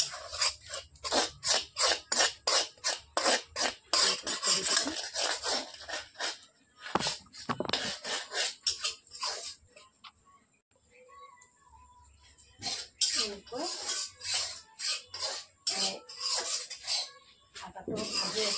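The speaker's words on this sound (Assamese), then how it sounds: "আটাটো ভাজি আছোঁ।" Wheat flour dry-roasts over low heat in a pan, stirred with rhythmic scraping strokes close by; the strokes pause briefly midway, then resume.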